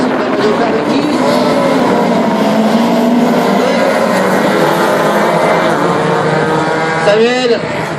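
Race cars, including a Honda Civic and a Peugeot 306, roar off the start at an amateur motorsport event in Mayenne, a loud, continuous multi-engine drone at close range, with an announcer talking over it.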